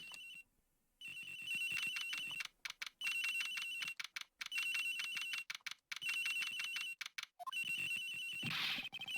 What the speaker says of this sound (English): Sounds like the phone is up in the flight attendant's room